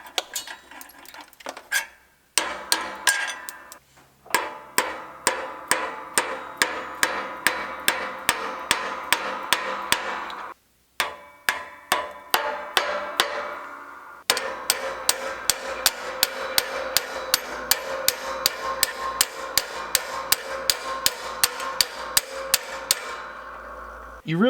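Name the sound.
hammering out a 1979 Camaro body panel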